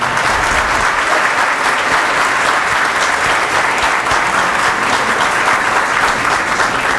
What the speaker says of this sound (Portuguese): a quem peço uma salva de palmas também